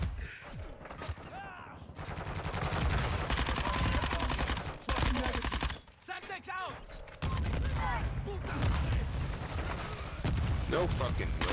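Gunfire from the video game Call of Duty: Modern Warfare 2, dense rapid bursts of shots and loud game effects filling most of the clip, with a brief lull midway before the firing resumes.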